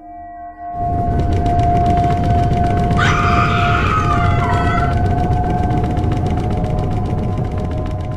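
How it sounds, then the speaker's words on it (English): A deafening animated rumble of a house collapsing in a Halloween cartoon: loud, sustained low roar starting after a brief quiet moment, with a grinding, creaking midsection and a steady high whine throughout, no voices. "with a deafening rumble, her home began to collapse"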